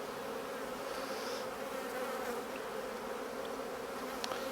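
Honey bees hum in a continuous, fairly quiet buzz, close and steady, while they cluster around a newly introduced virgin queen in a hive, with no voices.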